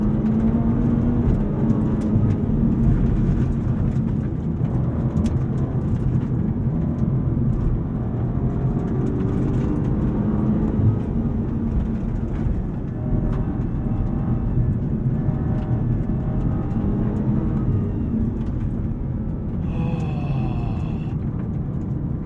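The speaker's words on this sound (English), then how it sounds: "you do hear that exhaust noise better" A 2022 BMW M5 CS heard from inside the cabin: a loud, steady engine drone with deep rumbling exhaust tones that rise and fall slightly, running continuously throughout.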